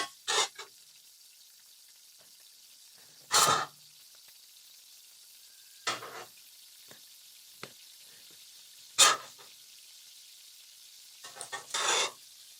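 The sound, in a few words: escovitch fish frying in a packed skillet, turned with tongs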